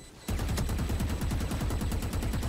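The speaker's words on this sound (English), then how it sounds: "shoot through the wall" Rapid automatic gunfire in Valorant, shooting through a wall, a loud sustained burst of evenly spaced shots starting abruptly and running continuously, close and dense.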